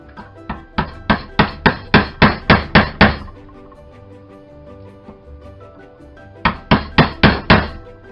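A hammer strikes a chisel into wood to clear the waste between dovetails, a steady run of about ten sharp, loud knocks, a pause, then five more close blows.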